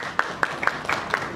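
At Pandit Pawan Kaushik's birthday celebration, a few sharp, distinct hand claps ring out at a brisk, fairly regular pace, about six in quick succession over a low murmur of background noise.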